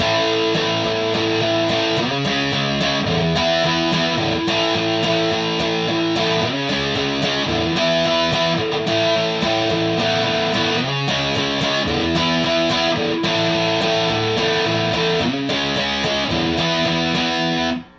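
Distorted electric guitar strums full E-shape barre chords in a steady rhythmic pattern, loud and continuous, with other instruments blended underneath.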